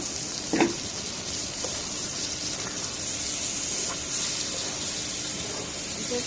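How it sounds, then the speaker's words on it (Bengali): Boal fish sautés in a pan for a Bengali fish bhuna, a steady soft sizzle and hiss with a couple of brief clicks of a utensil against the pan. "এখন মাছ দিয়ে কষাবো।"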